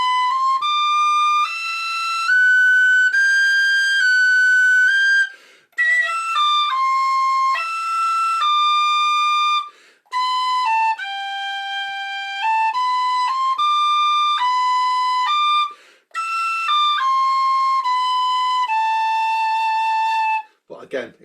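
A tin whistle plays a bright melody in several short phrases, with brief pauses for breath between them and no other sounds.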